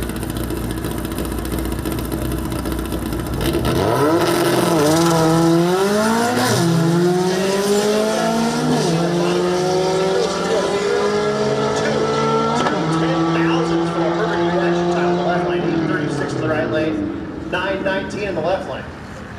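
A Subaru runs at a drag strip at XRP, engine revving up through rising and falling gear changes over a steady loud roar, with an announcer talking throughout.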